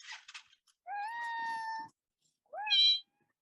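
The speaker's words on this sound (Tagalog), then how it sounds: "Ay, may pusa din po kayo." A house cat gives two clear meows, a long drawn-out one followed by a shorter rising one after a brief pause, close and alone, preceded by faint rustling.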